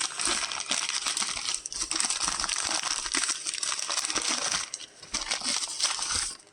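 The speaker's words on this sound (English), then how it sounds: "I'll unwrap these quickly" Wrapped pieces of Mexican rainbow obsidian being unwrapped, giving continuous crinkling and rustling of wrapping with small clicks and taps of stone, close and steady, dipping briefly twice.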